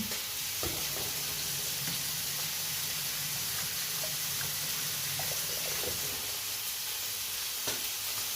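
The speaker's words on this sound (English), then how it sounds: "Wash my hands again." Hands are rinsed under running tap water in a home kitchen during breakfast cooking, giving a steady hiss of water that holds evenly throughout with a few faint clinks and no talking.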